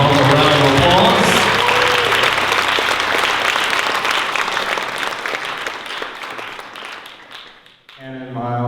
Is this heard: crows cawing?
no